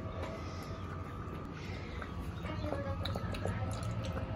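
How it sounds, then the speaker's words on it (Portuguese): A Golden Retriever laps water, with wet, rapid slurping and dripping sounds repeating close by in an even, continuous rhythm. "Ela tá bebendo água"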